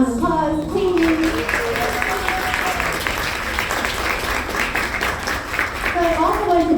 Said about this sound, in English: To give them another round of applause, please.